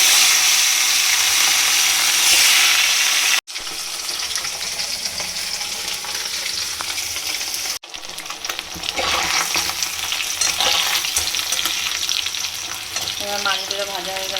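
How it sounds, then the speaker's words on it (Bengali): Fish frying in hot oil in a wok gives a loud, continuous close sizzle and crackle that lasts throughout, broken by two brief dropouts, with occasional stirring noises. "তেল আমার গরম হয়ে গেছে এবার মাছ"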